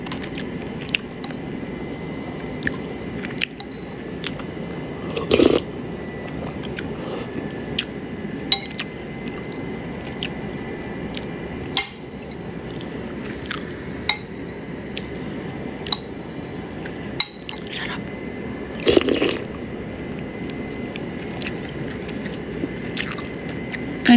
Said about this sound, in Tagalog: I can't believe I'm eating rice.